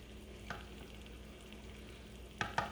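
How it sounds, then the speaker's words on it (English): Eggs are beaten with a fork in a bowl; faint, quiet clinks and taps come at irregular moments, with a pair of sharper strikes near the end over a low background hum. "I like to take my time and make sure my eggs are beaten well"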